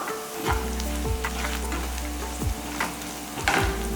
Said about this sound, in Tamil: ஸ்லோ ஃப்ளேமில் வச்சுட்டு பண்ணுங்கள் இல்லைன்னா இதில் வெறும் மிளகாய் தூள் போட்டுருக்கிறதுனால கருகி போயிடும் பாருங்க இந்த அளவுக்கு வதக்கிங்க